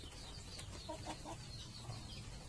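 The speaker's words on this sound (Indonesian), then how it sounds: "ini ayam saya dia sesak napas dan batuk, kalau malam berisik" A sick chicken with breathing trouble and a cough gives faint, scattered clucks over a steady low background hum, the calls sounding soft and a little distant.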